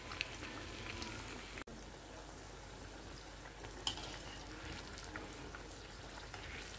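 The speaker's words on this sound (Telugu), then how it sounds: "బాగా వేగనివ్వండి." Potato mirchi bajji fry in oil with a quiet, steady bubbling crackle like light rain, faint and continuous, broken by a single sharp tap and no voices.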